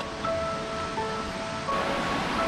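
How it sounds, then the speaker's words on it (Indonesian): Distant waterfall rushing beyond a dense forest path on a steep trail, a steady broadband wash with faint bird calls over it, moderately quiet and continuous throughout. "Suara air terjun sudah kedengaran di kejauhan."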